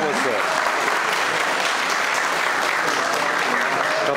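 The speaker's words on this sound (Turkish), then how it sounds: "Evet, güçlü alkışlar." A crowd applauds strongly during a jersey presentation to a Galatasaray legend at a sports event, a dense, continuous wash of clapping with talk mixed in.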